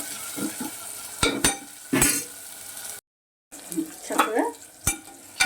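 Onions fry in a pan for a brinjal and green peas masala curry, a soft sizzle broken by spoon scrapes and clinks against the pan, with a few words spoken over it.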